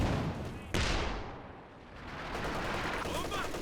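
Gunfire from an MG34 machine gun in the video game Company of Heroes 2, a sharp loud burst early on followed by rumbling battle noise, with commentator speech running over it.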